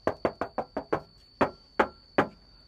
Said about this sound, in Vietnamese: Tất cả các video clip thì em đều gõ để chúng ta nghe được cái cảm nhận của cái tiếng tôn của chiếc xe